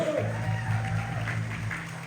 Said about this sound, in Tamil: ஒரு பலமான கரகோஷம்.